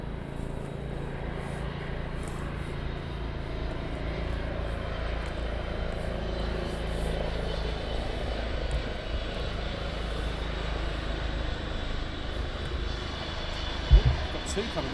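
Military helicopter at RAF Shawbury lifting off with an underslung load, a steady low rotor and engine drone holding throughout at moderate distance, with a brief louder thump near the end.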